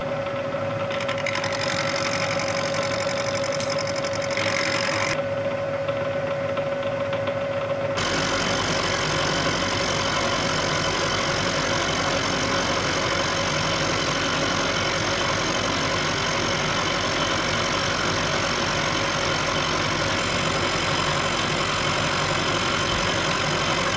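A cast iron straight edge being machined, a steady mechanical drone of the machine running with a sustained tonal hum, loud and continuous, shifting character partway through as the cut engages, without any talk.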